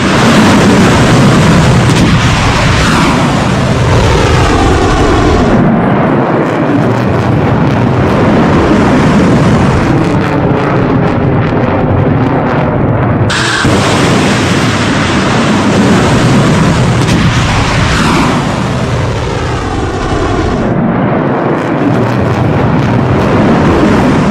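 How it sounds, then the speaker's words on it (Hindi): Iranian missile strikes on US and Israeli targets produce a loud, continuous roaring rumble with rising and falling tonal sweeps, sustained throughout without speech. "एक तरफ ईरान मिसाइल दाग रहा था"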